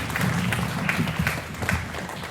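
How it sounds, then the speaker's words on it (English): An audience applauds a trumpet player named Lucas at a student jazz band concert at The Shack. Steady, dense clapping holds for the whole span at a moderate level, with a low murmur of crowd underneath. "we give another round of applause for Lucas on the trumpet?"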